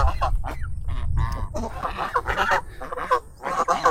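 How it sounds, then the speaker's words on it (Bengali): Domestic geese in a rain-flooded village on the India–Bangladesh border give a run of nasal honks and calls, loud and near, several birds overlapping in quick succession. "কত রাজহাঁস।"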